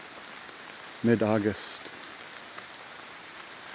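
Rain falling in a forest on a rainy mid-August day at a wildlife refuge, a soft steady patter under a brief spoken phrase.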